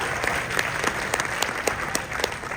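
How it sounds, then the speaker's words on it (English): A thin smattering of audience applause during a film Q&A, scattered individual claps over a steady crowd patter, fairly even and moderate. "Smattering of applause."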